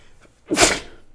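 A single sharp sneeze bursts out after a brief quiet pause, loud and close, with a breathy intake just before it.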